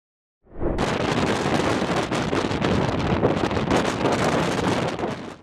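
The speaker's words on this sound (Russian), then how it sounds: "Сильный штормовой ветер и большие волны обрушились на побережье Северного моря" Strong storm wind batters the North Sea coast at Dunkirk, a loud continuous roar buffeting the microphone and thick with gusts from start to finish.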